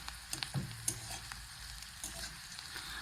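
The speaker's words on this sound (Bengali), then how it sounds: "খুবই সামান্য পেঁয়াজটা ভেজে নিতে হবে" Onion lightly frying in a pan at low volume, a soft, steady sizzle running throughout with a few faint stirring clicks and taps.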